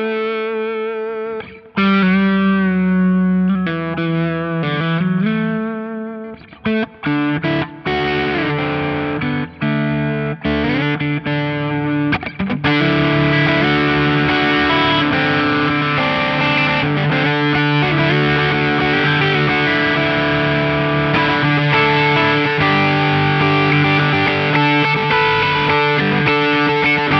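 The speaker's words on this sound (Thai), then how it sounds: "ฟังเสียงแตกหนักๆ กันบ้างนะครับ" Heavily distorted PRS Hollow Body II electric guitar playing sustained, crunchy chords and notes, loud and continuous with no voices.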